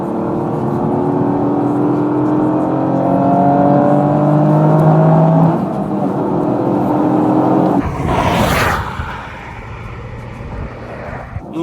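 A Toyota Yaris GR engine drones loudly and steadily, its pitch climbing as it revs, then gives way to a brief rushing whoosh before settling into a lower hum.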